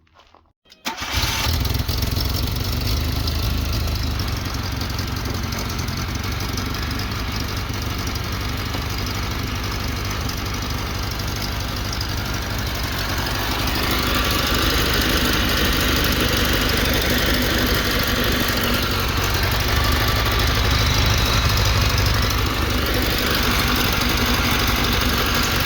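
A Suzuki Samurai engine fitted with a swapped Suzuki Sidekick power steering pump cranks and catches, then runs at a steady, loud idle for a long stretch nearby, its drone rising slightly partway through, with no one talking.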